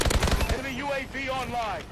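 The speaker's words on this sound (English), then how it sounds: "Bombing run overhead." A bombing run in Call of Duty Advanced Warfare: a quick rattle of blasts opens the moment, then someone talks over fading battle noise.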